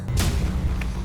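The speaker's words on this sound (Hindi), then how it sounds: "वहाँ खिड़की से किसी ने गोली चलाई।" A single sharp gunshot fired from a window, a crack with a brief boom, standing out over a steady low rumble of background noise.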